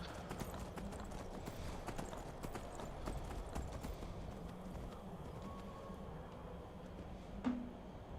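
Horse hooves clip-clop on a mountain in the video game Skyrim, a steady, fairly quiet trotting rhythm over a low background hum, with one sharper knock near the end.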